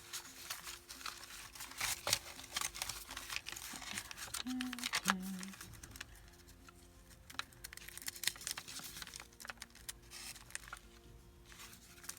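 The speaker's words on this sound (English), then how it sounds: "I'm going to cut that noisy paper in half" Paper crinkles and rustles while a journal is being made by hand, close, soft and irregular crackles scattered through the clip with a few brief tones.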